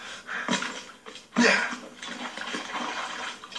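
Splashes sound as a character wades and jumps through water in Assassin's Creed Rogue, with a couple of sharp sloshing bursts and lighter rustling movement, close and fairly loud.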